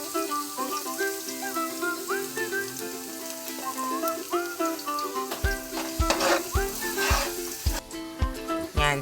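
Garlic sautés in a pan for gotong lugaw with a constant sizzle under tuneful background music, followed by a series of rhythmic scraping stirs in the second half.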